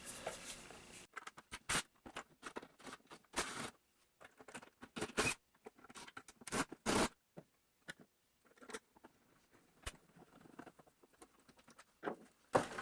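Screws being backed out of a Hoover Tempo Widepath upright vacuum during teardown: sparse, close clicks and scrapes of a screwdriver and plastic housing, in short bursts separated by quiet gaps.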